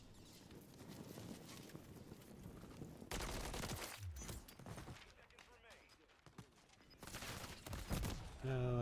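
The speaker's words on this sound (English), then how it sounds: "My bullets hit the wall." Bursts of video game gunfire come in loud dense volleys, separated by quieter stretches where a voice talks over the game sounds.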